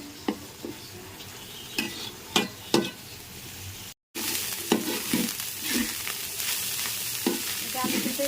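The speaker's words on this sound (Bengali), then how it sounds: "এটা কিন্তু একদম ভাজা ভাজা করবো।" Small sea shrimp from the Khulna–Bagerhat coast frying in a pan, a steady close sizzle with intermittent scraping stirs and utensil knocks, briefly cutting out before resuming louder.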